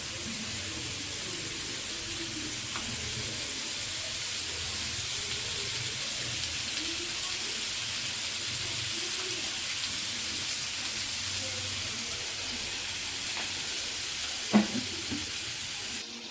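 Fish fries in a pan with a light drizzle of oil added on top, giving a steady, close sizzle and hiss that runs unbroken, with one brief clack near the end and no speech.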